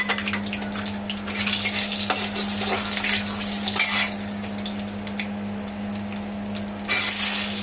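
Chili, bay leaf, cumin, cinnamon and salt fry in hot oil for a Bengali potato and egg curry, giving a continuous moderate sizzle with occasional stirring scrapes and soft clinks, no talking, over a steady low hum.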